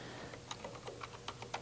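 Rapid, irregular clicks of a computer keyboard being typed on, close and alone, with a louder keystroke burst at the end.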